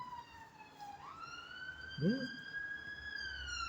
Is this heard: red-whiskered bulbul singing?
no